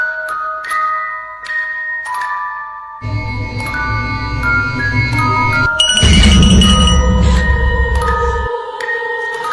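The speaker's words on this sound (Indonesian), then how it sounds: "Lonceng aneh terus berbunyi di luar." Layered bell tones ring and sustain, with a deep droning swell and a clanging burst in the middle, loud and reverberant.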